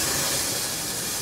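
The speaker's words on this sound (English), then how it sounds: "open your steam valve like that." Steady, loud steam hiss from the opened valve of a 1909 Stanley Steamer car thrown into reverse for braking, a continuous broadband rush with no talk over it.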